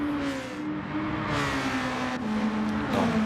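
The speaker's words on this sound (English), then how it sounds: "Can you hear the cars properly over me?" Race cars at the Interlagos circuit in a junior single-seater series race, engines droning loudly and continuously with a sustained pitch and rising revs as cars pass, with no talk.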